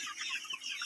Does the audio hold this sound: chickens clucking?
yes